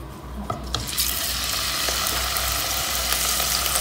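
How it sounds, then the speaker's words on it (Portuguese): Steady, close sizzling of seasoned chicken wingettes frying in a hot pan, with a few clicks and scrapes early on. "nós vamos começar fritando o frango"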